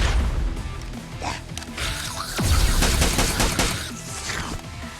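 Rapid bursts of automatic gunfire and scattered shots from PUBG Mobile crackle close and loud over a busy game soundscape, with a brief impact thud midway and no talking.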